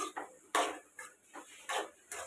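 Okra is stirred in a cooking pot for a tomato curry, producing rhythmic scraping and clinking strokes about every half second, close and clear with no talk.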